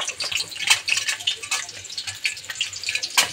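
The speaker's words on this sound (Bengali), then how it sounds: "কড়াইতে তেল দিয়ে দিয়েছি, এখন আমি এই আলুগুলোকে" Potatoes frying in hot oil in a wok give a steady, bright crackling sizzle with repeated louder bursts, close and fairly loud throughout, with no talking.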